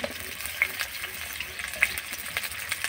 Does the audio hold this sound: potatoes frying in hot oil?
yes